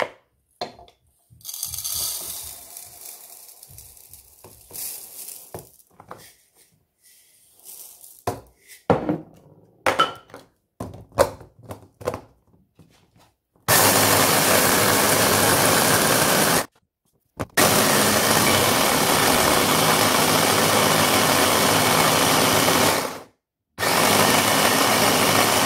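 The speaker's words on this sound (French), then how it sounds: "je vais mixer du sel là-dedans" Salt is ground in a small electric mixer: first scattered clicks and knocks as it is set up, then loud, harsh whirring bursts run for several seconds each, separated by brief stops.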